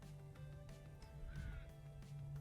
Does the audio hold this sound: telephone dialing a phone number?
no